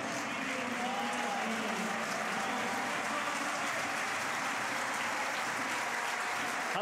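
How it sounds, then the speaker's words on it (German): Stadium crowd at a Rapid versus SC Wiener Neustadt Bundesliga football match applauding a substituted player, a distant, steady wash of clapping and crowd noise with faint whistles. "der bekommt jetzt mit Sicherheit einen großen Applaus"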